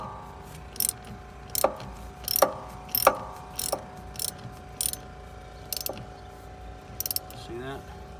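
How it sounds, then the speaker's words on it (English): A 10mm ratchet clicks in short bursts while tightening a car battery post clamp on an Alfa Romeo Giulia or Stelvio, the sharp pawl ticks close and fairly faint over a low hum. "Okay, then we want to take our 10mm. I'm going to tighten this back up."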